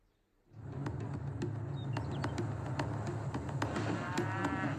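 Cattle moo on a farm, a steady lowing chorus that sets in after a quiet start and carries on over faint outdoor background with a few bird calls.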